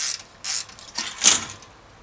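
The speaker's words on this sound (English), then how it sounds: "Start by undoing those rear wheel nuts." A spanner works loose the rear wheel nuts on a fixed gear bicycle, giving several close, short metallic ratcheting clicks in an uneven rhythm.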